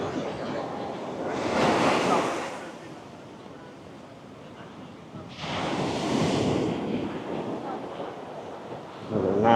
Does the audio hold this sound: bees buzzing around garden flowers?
no